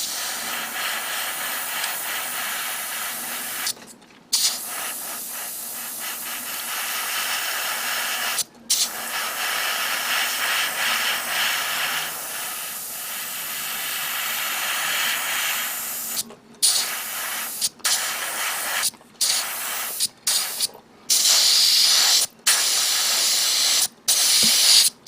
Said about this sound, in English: I'm going to spray paint along the edges here